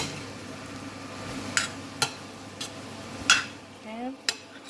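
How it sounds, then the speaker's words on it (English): Potato pieces stirred through masala in a pan on the stove, repeated spoon scrapes and knocks against the metal over a soft sizzle, close and clear. "Then I'm going to stir and just coat the potatoes with the masala."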